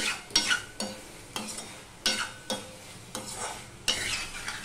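Pumpkin and bitter gourd curry stirred in a pan, the spoon scraping in repeated strokes over a steady sizzle as the last water cooks off, close and fairly loud with no talk.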